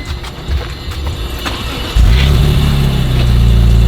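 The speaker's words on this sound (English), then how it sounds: "That's the M3 sound, man." A BMW M3 engine cranks and fires up, settling into a loud, steady, close idle with a deep rumble after a short stretch of quieter background noise.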